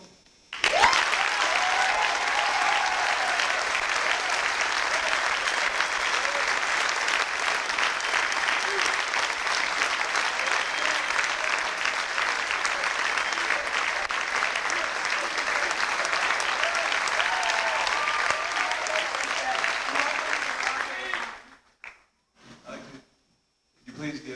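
At a 1987 high school senior night, an audience breaks into loud, sustained applause that fills about twenty seconds before abruptly dying away into near silence.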